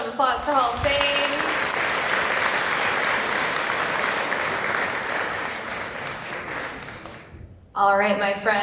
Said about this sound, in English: Give a round of applause to Hall of Fame.